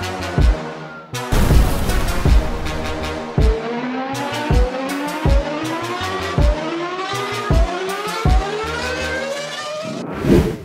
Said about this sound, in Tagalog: Ito na yung motor, oh.